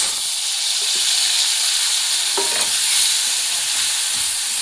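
Spices sizzle and hiss steadily in hot oil in a pan, loud and close, with a few faint stirring clinks and scrapes.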